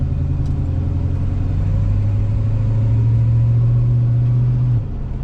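A 1972 Chevrolet El Camino on large tires drives along with a loud, steady engine rumble and a sustained low drone that holds for several seconds before easing off near the end.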